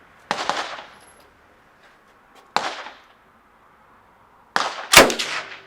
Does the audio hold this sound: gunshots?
yes